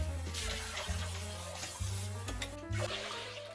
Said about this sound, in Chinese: 莴笋的盐水倒掉，再用清水洗去多余的盐分，避免菜品太咸。